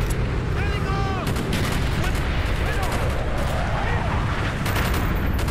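Dense, loud video game gunfire in Call of Duty Black Ops, continuous rapid shots layered with explosions and chaotic battle noise throughout, with faint voices in the mix.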